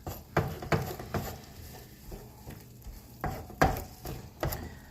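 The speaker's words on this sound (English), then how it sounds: "now you're going to use that wooden spoon, and you're going to stir it up" A wooden spoon stirring simmering meat in a pot, giving several soft scraping strokes and bumps at an irregular rhythm over a low bubbling background, close and fairly quiet.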